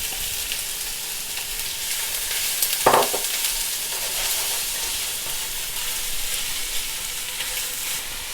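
Onions frying in a pan for chicken korma, a steady broad sizzle close by with one brief louder stir or scrape near the middle, no voices.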